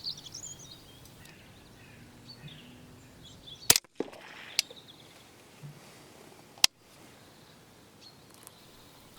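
A sharp Nitro HV air rifle shot cracks out, then a second snap follows a few seconds later, with faint spring bird calls and outdoor hiss in between.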